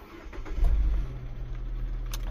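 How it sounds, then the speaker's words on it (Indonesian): A used Nissan Juke in a car showroom cranks and fires up with a short, loud low rumble, then settles into a steady, smooth idle close by. "kita injek rem terus kita starter"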